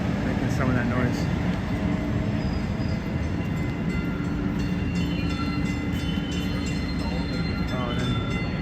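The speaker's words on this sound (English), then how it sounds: "We got the train behind us here, making some of that noise." A Boston Green Line train rumbles past in the background on a city street, with a continuous loud roar and brief wheel squeals. Faint voices can be heard beneath it.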